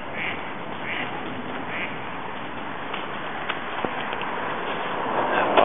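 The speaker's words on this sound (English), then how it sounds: "Obviously located a duck pond of some sort." Ducks at a pond in Golden Gate Park quack in a few faint, scattered calls over steady outdoor ambience and wind noise.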